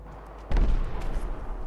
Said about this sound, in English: Ignore all of the gunfire.